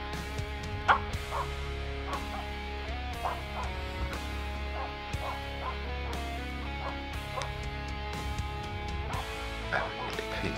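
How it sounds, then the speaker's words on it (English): A Finnish Spitz barks repeatedly in short bursts at a moderate distance while hunting, over a steady low hum and outdoor background. "And the dog is barking."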